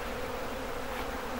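Honeybees buzz at a hive during swarming in a steady, dense drone close by, a continuous hum with no pauses.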